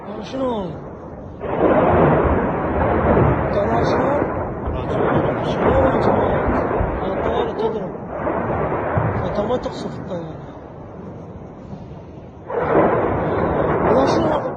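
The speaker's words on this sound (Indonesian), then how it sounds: "suara dentuman juga terekam dalam video amatir yang menandakan bahwa serangan itu mengenai" Heavy, rumbling booms from a missile strike roll through in long, loud bursts, with voices talking faintly amid the noise.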